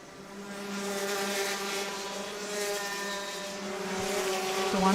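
Racing kart engines drone at a karting championship at Whiteriver, Ireland, a steady high buzzing whine held throughout and swelling slightly louder toward the end, with no talk.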